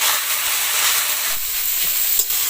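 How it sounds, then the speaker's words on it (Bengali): Vegetable chop filling of boiled beetroot and carrot is stirred as it fries dry in a pan. A steady hiss runs throughout, with soft scraping strokes from the stirring. "জলটা সম্পূর্ণ শুকিয়ে গিয়েছে, আবারও আমি কিছুক্ষণ নাড়াচাড়া করবো"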